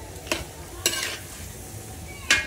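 Vegetables with beans and red and green peppers stirred in a frying pan over a steady sizzle, with three sharp spatula scrapes spaced across the moment, close and clear.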